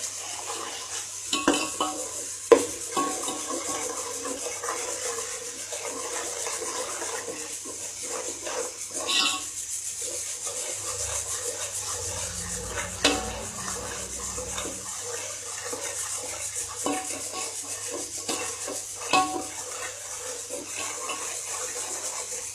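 Mutton is stirred and fried in a pan, with scraping spoon-on-metal knocks and clatters over a soft, steady sizzle.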